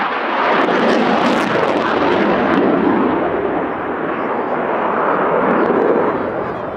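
Eurofighter Typhoon jet flying a display at an airshow, a loud, broad, rushing engine roar that swells and holds steadily for several seconds, with no voice over it.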